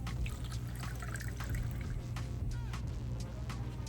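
Hard seltzer poured quickly into a glass, close fizzing and trickling liquid with small drips over a steady low background hum.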